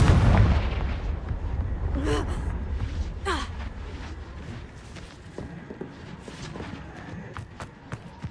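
A Confringo fire spell in Hogwarts Legacy bursts with a loud, booming blast at the start, followed by a couple of quick whooshing magical zips and fading crackles over a low background rumble.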